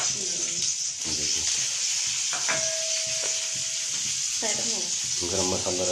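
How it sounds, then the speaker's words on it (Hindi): Spices for a tadka sizzle in hot oil for a vegetable curry in a home kitchen, a constant frying hiss running throughout while voices talk over it. "तड़का लगा रही है सब्जी में।"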